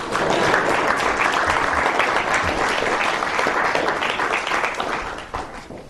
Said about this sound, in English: Let's give her a hand.